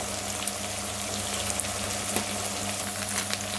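Coriander and cumin fry in hot oil in a pan while paneer with pepper is being cooked, a constant close crackling sizzle dotted with small pops, with a low steady hum beneath it.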